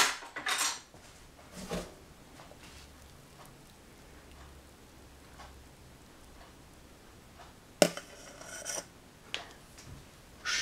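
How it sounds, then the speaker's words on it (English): Homemade tiramisu being layered with cream, utensils clinking and scraping against a dish in scattered bursts, with soft handling noises in between and a sharper knock near the end. "Now I'm putting the cream."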